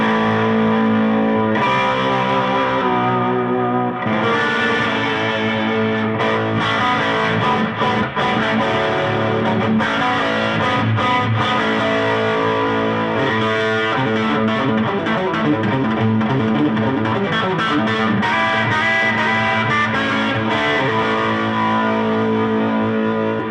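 Electric guitar played through an overdrive pedal used as a clean boost, loud sustained chords and riffs with gritty distorted tone, continuous for over twenty seconds without speech.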